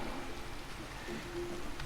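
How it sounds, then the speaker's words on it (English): Rain falls in Minecraft, a quiet, even hiss of drops with no breaks or voices. "And now it started raining in-game as well."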